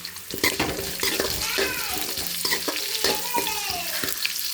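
Onions sautéing in oil in a pan, with radish already added, giving a steady close sizzle broken by repeated scraping and clinking stirs throughout, with no talking.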